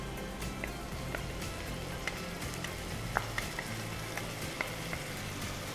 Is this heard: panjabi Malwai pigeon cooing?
no